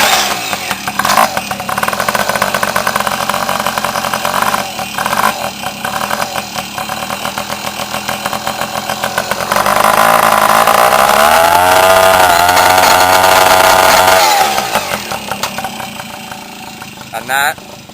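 A Tomos moped engine running after being kick-started, a buzzy small-engine drone with throttle blips that swells louder mid-way, then settles back toward idle, close to the microphone.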